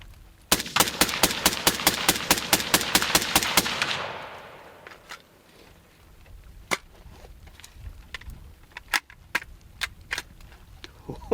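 A rapid string of loud, evenly spaced gunshots rattles off for several seconds, then stops, leaving scattered single pops and clicks at irregular intervals.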